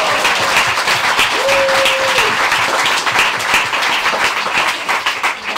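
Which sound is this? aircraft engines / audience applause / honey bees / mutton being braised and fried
audience applause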